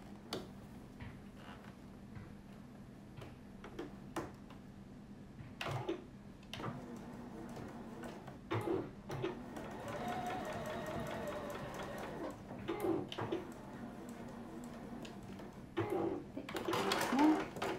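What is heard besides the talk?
sewing machine stitching a fabric zipper pocket seam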